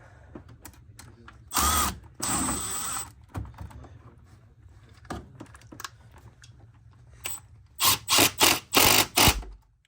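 A power tool whirs in several short bursts, loosening a bolt during an EVO 3 intercooler install on a BMW 335d: two longer runs early, then a rapid series of four or five bursts near the end, with light tool clatter in between.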